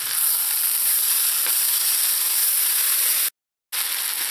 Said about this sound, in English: I'm going to add in some peas and some chopped parsley. And I'm going to mix that in.